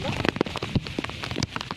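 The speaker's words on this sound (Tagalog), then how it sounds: "Medyo masakit sa katawan yung ulan. Malakas masyado." Heavy rain patters hard and steadily on a surface, with scattered louder drops and a faint voice underneath.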